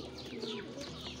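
Farm pigeons or doves coo softly at close range in a brief, faint call.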